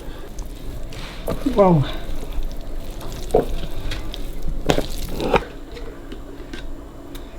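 Potato salad is stirred with a generous amount of mayonnaise in a bowl, giving soft, wet squishing and scraping that comes and goes under close conversation and a surprised exclamation.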